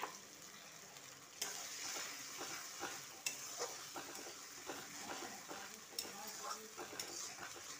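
Spices being stirred into yogurt in a bowl, giving a continuous wet swishing with rhythmic spoon scrapes and a few sharper knocks against the bowl.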